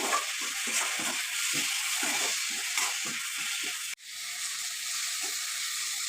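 Turmeric, salt and ginger-garlic paste frying in a pan, a close steady sizzle with rhythmic stirring scrapes and a brief dropout near the end, no voices.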